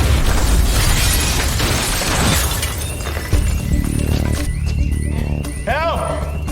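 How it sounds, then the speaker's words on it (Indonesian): A loud blast bursts with shattering debris and a rumbling roar that trails off, followed by ringing tones and scattered crashes, from a TV drama scene. "sebuah ledakan terjadi."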